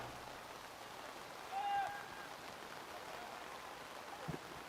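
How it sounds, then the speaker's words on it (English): Heavy rain pours steadily over an outdoor soccer match during a semifinal, a constant broadband hiss with a brief whistle-like tone partway through. "the rain now comes pouring down"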